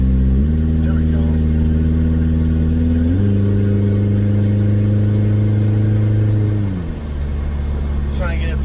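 Rebuilt car engine revving up through the gears on the road, loud and close, the pitch climbing steadily, dropping at a shift, climbing again, then easing off near the end.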